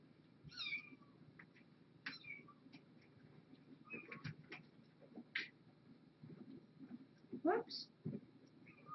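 A cat meows several times in a quiet morning setting, short high calls scattered between a person's soft repeated calling and faint background ticking.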